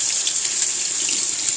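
Tap water runs steadily from a faucet into a kitchen sink while a bell pepper is rinsed, a constant close hiss and splash with no talking.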